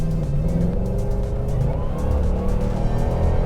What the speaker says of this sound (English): you can hear that supercharger whine just a little bit